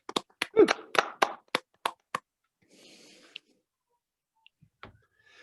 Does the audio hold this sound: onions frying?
no